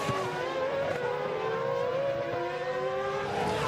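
Formula 1 cars circling the track during 2007 Hungarian Grand Prix qualifying, with several high-pitched engine whines rising and falling continuously at moderate distance and no talk.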